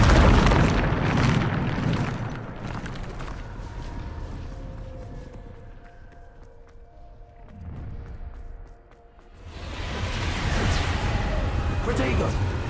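Booming blasts from the Bombarda blasting spell in a wizard duel, loud heavy bursts clustered at the start and again near the end, with a quieter rumbling stretch between and voices shouting over the action.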